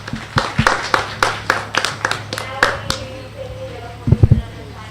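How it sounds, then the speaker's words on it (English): Scattered hand claps from a small audience at a county junior fair goat show, about a dozen sharp separate claps spread over several seconds, then a brief burst near the end, with a steady hum underneath. "Let's give her a nice round of applause."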